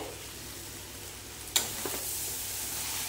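Rice being stirred into a frying pan with cabbage, giving a steady low sizzle broken by one sharp scrape and a few lighter utensil knocks, close and with no voices.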